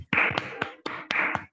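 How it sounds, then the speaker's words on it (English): Hands clap together in short bursts, a brief round of applause at a Toastmasters meeting welcoming the next speaker, near and fairly loud, with no voices. "please big round of applause"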